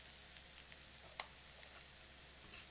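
Drumstick leaves fry in a pan with salt added, giving a soft, steady sizzle with faint stirring clicks and one sharper tap, heard close and quiet with no talking.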